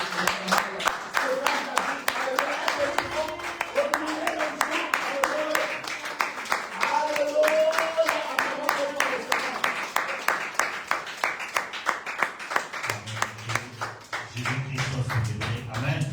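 A church congregation claps in a fast, steady rhythm throughout, dense and continuous, while a voice and music carry on underneath, with a deeper hum swelling near the end.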